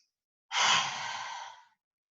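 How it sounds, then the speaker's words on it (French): A forceful yoga exhale with the tongue out, one long breathy rush of air that swells quickly and fades out over about a second, alone in quiet. "Et sur l'expire, on vient tirer la langue. Et expirer et souffler."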